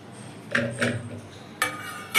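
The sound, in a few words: raw mangoes being put into a pressure cooker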